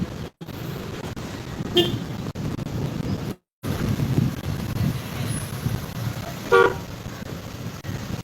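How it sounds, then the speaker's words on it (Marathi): Road traffic jam near the Raibandar ferry point heading to Chorao Island, with steady engine rumble and wind buffeting the microphone, two short car horn toots cutting through, the second louder and nearer. "सद्या रायबंदर फेरये कडेन आसा आनी हांगासर ट्रॅफिक जॅम जाता"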